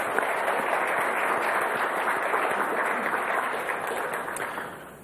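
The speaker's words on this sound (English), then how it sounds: "So I want to just one more round of applause for you for that effort" A conference audience applauds steadily with dense, sustained clapping that fades slightly toward the end.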